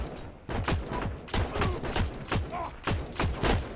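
Rapid gunfire bursts from a World War II shooter match in Heroes and Generals, a repeated string of sharp close shots in uneven rhythm, loud and steady throughout with mechanical clatter between them.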